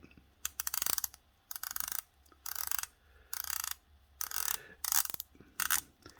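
The bi-directional bezel of a Pagani Design PD1649 watch clicks as it is turned, in quick close bursts of ratcheting clicks separated by brief pauses, about eight bursts with no talking.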